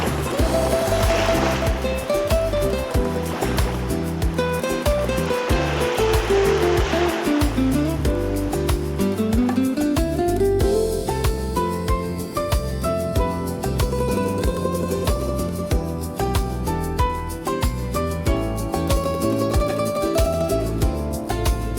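Sea waves wash steadily onto an Adriatic beach at Sottomarina near Chioggia, a continuous loud surf roar that never pauses and has no voices over it.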